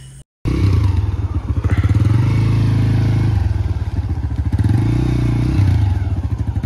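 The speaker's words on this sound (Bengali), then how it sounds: "আবারও বাইকে উঠছি।" A motorcycle rides through forest near Kuakata, its engine thrumming loud and close with a steady pulsing beat that rises and falls slightly with the throttle, alongside rattles and bumps from the rough ground.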